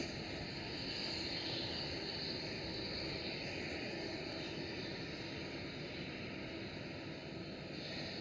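An ITA airliner taxis at Amsterdam Schiphol airport, its engines giving a steady, broad rushing roar at moderate distance that holds at an even level throughout, with no talk.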